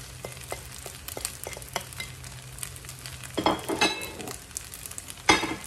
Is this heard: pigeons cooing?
no